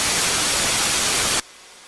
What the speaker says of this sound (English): white noise